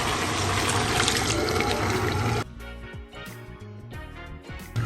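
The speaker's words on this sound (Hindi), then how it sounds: "चने मैंने भून लिए, अब मैं ये देखें यखनी जाने लगी है इसके अंदर।" Yakhni stock poured into a pan of roasted chickpeas while making black pepper chickpeas, a loud broad splashing and gushing pour that cuts off suddenly midway, followed by quieter sizzling and bubbling in the pan.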